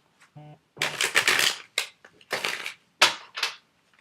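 A deck of cards is shuffled for an Aries astrology reading, heard as several close, crisp bursts of riffling and rustling separated by short pauses, with no speech.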